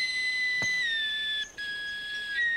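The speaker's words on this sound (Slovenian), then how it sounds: "William igra na novo piščalko." A new whistle played poorly in a cartoon gives a thin, wavering shrill tone that slides and dips unsteadily for a couple of seconds, with a brief tap partway through and no talking.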